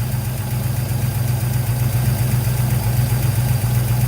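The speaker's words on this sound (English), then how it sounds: "I'm going to go ahead and let it run for just a few minutes here at idle." A 1967 Corvette 327 V8 fitted in a 1948 Chevy pickup idles steadily up close, a continuous low throbbing rumble with even loudness and no talk over it.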